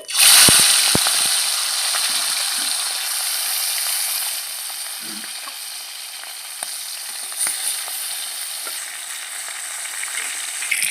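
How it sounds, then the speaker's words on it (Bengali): Salted rare sea fish drop into hot oil in a wok, setting off a loud burst of sizzling that settles into a steady, crackling fry with occasional light clinks. "কড়াইয়ের তেল গরম হয়ে গেছে মাছগুলো এখন আমি তেলে দিয়ে দিচ্ছি"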